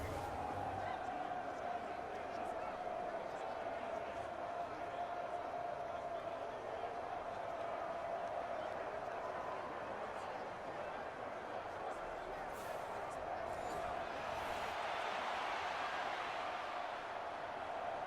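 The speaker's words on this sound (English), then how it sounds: "Listen to this crowd now." Steady, dense roar of a large stadium crowd in the Madden NFL 24 football video game, continuous and loud throughout, with a swell of excitement near the end during a two-point conversion.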